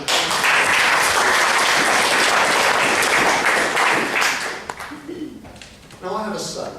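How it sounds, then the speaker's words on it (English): Loud sustained applause from an audience at a speech session, dense clapping for about four and a half seconds before fading, then brief talking. "Can we give them another round of applause?"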